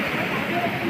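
Water pours down a switch gate into a mini waterfall, making a steady, loud rushing and splashing that fills the whole moment without pause.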